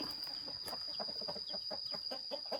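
Chickens cluck in short, repeated bursts at moderate distance in a garden, with a steady high-pitched whine running underneath.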